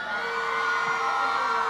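A crowd of girls screaming and cheering at a live outdoor performance, a dense, sustained roar of high voices at steady loudness throughout.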